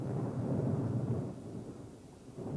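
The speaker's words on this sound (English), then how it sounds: "Then came a flash of lightning, a clap of thunder" A low, rumbling roll of thunder with a steady wash of rain, deep and sustained, fading slightly before swelling again.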